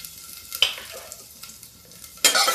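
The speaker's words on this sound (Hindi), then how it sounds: "इसे डालते लहसुन, अदरक और थोड़ा हरा मिर्चा।" Garlic, ginger and green chili fry over high heat in a pan, a steady soft sizzle broken by louder scraping stirs, with no voices.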